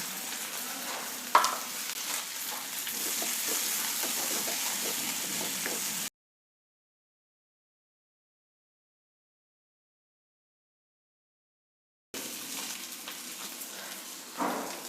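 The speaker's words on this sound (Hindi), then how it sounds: "आलू हो चुके हैं हमारे फ्राई" Boiled potatoes frying with browned onions in a pan give a steady close sizzle with a sharp clink near the start, then a long silent gap before the frying resumes.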